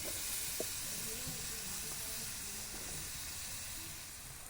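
Crab sautéing with salt in a pan hisses and sizzles steadily at low volume, a broad even fry with faint clinks, while a voice speaks quietly over it.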